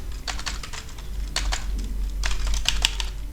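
Rapid keystrokes on a computer keyboard as a network switch interface shutdown command is typed, coming in close, uneven bursts of clicks with short pauses between them.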